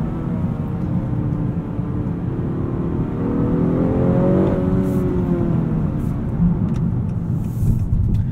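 A 2019 Honda Accord 2.0T Sport with a six-speed manual accelerates from the cabin, its turbocharged engine droning steadily and rising in pitch, then easing back, with no talk.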